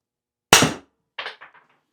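A Byrna launcher firing a single power shot, one sharp loud crack followed by a short fading tail and a couple of fainter clicks, with no one talking.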